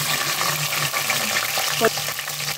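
Cumin seeds and green chillies fry in hot oil, a steady crackling sizzle close at hand with light stirring scrapes and a single brief clink partway through, with no speech.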